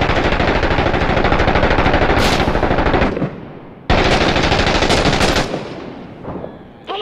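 Loud, close bursts of automatic machine-gun fire in the Six Days in Fallujah battle game, two long sustained volleys with a short gap between, each trailing off into echoing decay.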